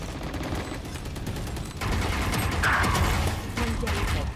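Gunfire from the Valorant video game rattles in rapid automatic bursts, dense and loud, with a few sharper single shots. Players talk over the shooting.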